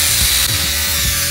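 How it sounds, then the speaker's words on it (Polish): Sheet metal being cut in half in a home metalworking shop, a brief loud rasping grind with three rhythmic strokes over a steady whine. "Kawałek takiej blaszki muszę przeciąć na pół."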